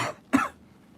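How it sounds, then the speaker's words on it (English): A single short cough from one person, close and fairly loud, followed by quiet; no speech. "I had a little cough coming in."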